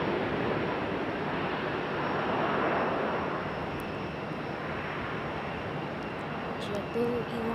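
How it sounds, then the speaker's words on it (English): Arriving from Atlanta at Raleigh-Durham, a Boeing 757 airliner produces a sustained jet roar that swells and eases slightly at a distance, with people talking over it and a brief tonal sound near the end. "There's our 757 coming in from Atlanta."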